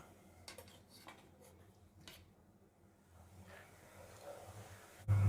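Plates and cutlery clink sparsely while chicken biryani is served, a few light metallic taps and scrapes in a quiet room, with a louder clatter at the very end.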